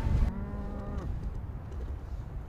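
A farm cow on Islay lets out a single loud, low, drawn-out moo close by, lasting about a second before fading into quiet outdoor background.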